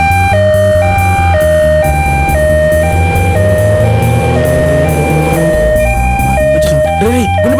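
A two-tone ambulance siren wails loudly and steadily, alternating between high and low pitches in a regular rhythm over a busy street scene with voices and music beneath it.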